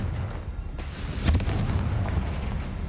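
A Confringo blasting spell explodes in the game Hogwarts Legacy, a broad booming blast with a rumbling low-end tail that lingers over a dense, noisy background.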